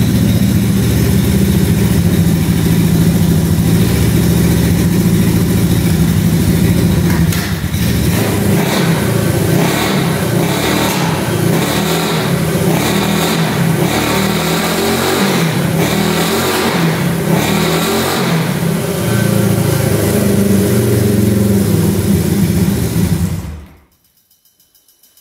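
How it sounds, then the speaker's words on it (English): A Honda motorcycle engine found in an abandoned storage unit runs with its gas tank hooked up. It holds a loud, steady idle with uneven revving pulses in the middle, then cuts off abruptly near the end. "Look at that, idling."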